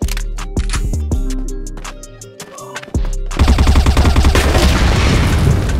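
Grenade detonation in the CrossFire first-person shooter: sharp gunfire cracks and thuds at first, then a sudden loud, roaring blast that fills the last few seconds with sustained rumbling noise.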